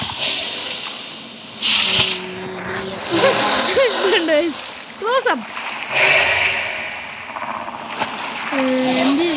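An astroraptor dinosaur drinks water in the Cursed Isle video game, with wet splashing and sloshing running throughout alongside chirping creature calls, while a person talks over the gameplay.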